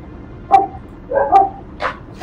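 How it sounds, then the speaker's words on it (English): Dog barking in a video game: four clear, evenly spaced barks, fairly loud and close, over a quiet low background. "Hey, who has a recording of their own dog?"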